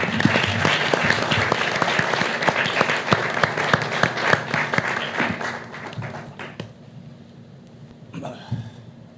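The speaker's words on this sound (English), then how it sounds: "please, a round of applause for our panelists as we get started" A crowd applauds steadily, with dense clapping that thins out and fades toward the end, leaving a few scattered claps and a quiet room.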